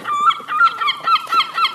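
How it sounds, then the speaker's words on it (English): Loud, harsh gull squawks repeat in quick succession close by, several overlapping cries with no talking. "They seem to come out of nowhere, seagulls."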